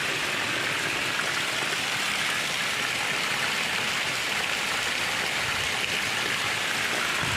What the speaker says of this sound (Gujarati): આપણે વરસાદ ચાલુ છે